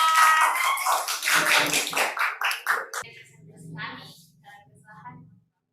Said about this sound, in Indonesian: Selamat pagi, tepuk tangan.